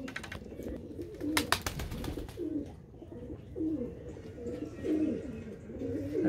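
Pigeons cooing on a rooftop, repeated soft throaty coos in a steady rolling rhythm, fairly close, with faint background noise and a few brief sharper sounds early on.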